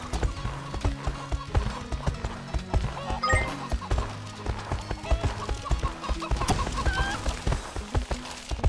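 Chickens clucking in the My Horse & Me video game, repeated short clucks over rhythmic horse hoof clip-clops and an occasional whinny, with a voice speaking at times.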